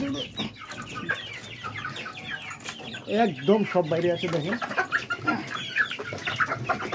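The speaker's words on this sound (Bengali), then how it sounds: "আমি দেখতেছি মুরগিগুলো মানে খাওয়ার জন্য খুব ব্যস্ত হয়ে গেছে, পাগল হয়ে গেছে" Farm chickens busily eating feed cluck and squawk continuously up close, a lively overlapping flock chatter, while someone talks over them throughout.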